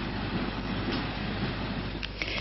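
A train runs along a railway line toward Modane in 1984, a continuous rumbling roll with faint rhythmic rail noise and occasional higher squeaks, steady and fairly loud without speech.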